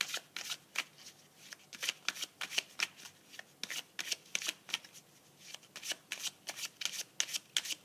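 Tarot cards shuffled by hand in a run of quick crisp riffling bursts with short pauses between, close and clear, with no talk.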